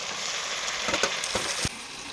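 Spiced chicken goes into a pan of fried onions, giving a close sizzling hiss broken by several sharp bursts and clunks as pieces are added and stirred.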